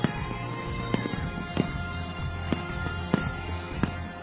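New Year fireworks bursting over the Bangkok riverside, a string of sharp, distant booms and crackles at irregular intervals over a steady crowd murmur.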